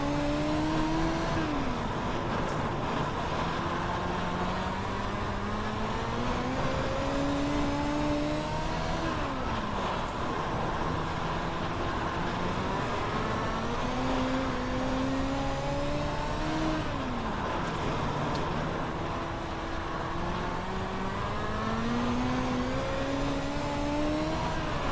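Dirt midget race cars on an oval track, engines revving and rising in pitch down the straights and backing off into the turns in a steady repeating cycle, loud and continuous without talk.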